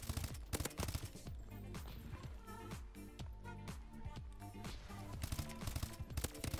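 Rapid automatic gunfire from a gun in Call of Duty rattles in dense, continuous bursts with sharp repeated reports and little pause.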